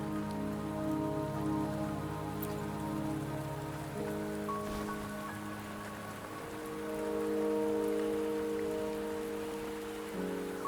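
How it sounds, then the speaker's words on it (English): Steady rain falling in the video game Wuthering Waves, a continuous soft patter heard under sustained musical tones, with no voices. "Don't worry, the rain won't last much longer."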